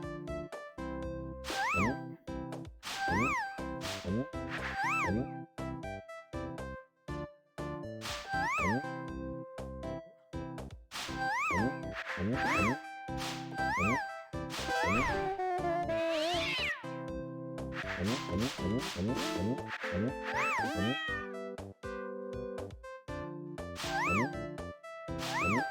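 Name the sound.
cat meowing in video game sCATch: The Painter Cat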